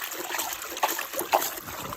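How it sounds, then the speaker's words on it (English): Water splashes and trickles as a gold-prospecting sluice box is dunked in a 5-gallon pail, with a couple of brief louder sloshes over a steady dribbling wash. "Give her a couple of splashes"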